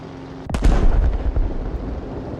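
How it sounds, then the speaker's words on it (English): Heavy gunfire and a deep explosion in a naval combat video game on a development server as a cruiser is shot: one loud, close boom followed by a rolling, rumbling decay with scattered smaller bursts. "The guns still sound the same on this."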